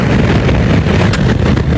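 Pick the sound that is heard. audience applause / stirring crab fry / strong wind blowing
strong wind blowing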